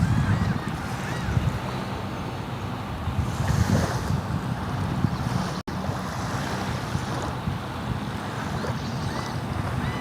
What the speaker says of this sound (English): Y'all can still hear the birds and waves in the background